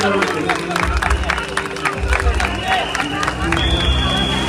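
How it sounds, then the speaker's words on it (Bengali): An outdoor crowd at a Durga Puja gathering applauds amid general hubbub, with steady clapping under a loud, continuous layer of voices and a low rumbling background. "জোরে হাত হাততালি হওয়া উচিত"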